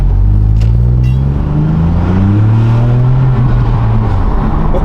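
2022 Ford Puma ST with a cheap cat-back exhaust revving up from inside the car, a loud, deep, throaty engine drone climbing and falling in pitch, steady and close throughout.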